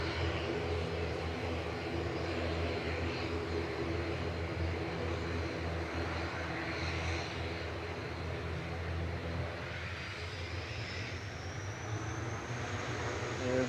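Qatar Airways flight 28 airliner arriving at Manchester Airport, its engines a steady, loud broadband roar throughout with a faint rising whine near the end and no clear speech over it.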